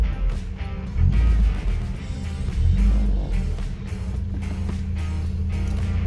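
A classic Opel car on a test drive after a steering wheel swap: a low engine rumble runs throughout, swelling with two throttle surges early on, then settles into a steady drive with no voices.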